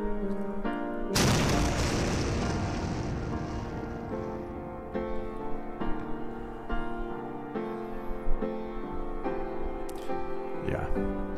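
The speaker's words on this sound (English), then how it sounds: "North Korean bomb, 150 kilotons," A simulated 150-kiloton North Korean nuclear bomb blast erupts in a sudden loud boom, then a long rolling rumble decays beneath background music, with further thuds and bursts scattered through the tail.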